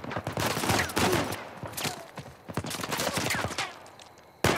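Rapid, dense gunfire from a firefight in Uncharted 4, with many overlapping shots in irregular bursts, loud and close, broken by a short lull before a final sharp shot.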